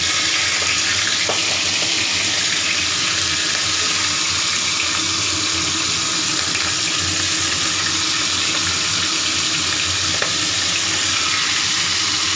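Fish rubbed with salt and turmeric fries in hot oil, giving a loud, steady broadband sizzle and crackle that holds without a break for the whole stretch, with no talking over it.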